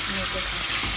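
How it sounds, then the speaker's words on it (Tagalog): Garlic and onion sauté in a pan, a loud, close, continuous sizzle and crackle of frying that fills the whole brief moment. "Saute garlic onion."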